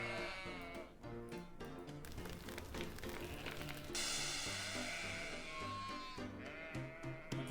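Sheep bleat in a video game over steady game music and a rain-like hiss, the bleats repeating in quick succession against the dense mix.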